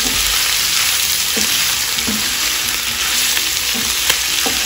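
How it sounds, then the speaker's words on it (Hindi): Goat stomach and liver fry in a hot pan, a steady loud sizzle filling the whole stretch with occasional scraping clicks as the pieces are stirred. "अब इसको हम अच्छे से फ्राई करेंगे। अब इसको अच्छे से भूनना है।"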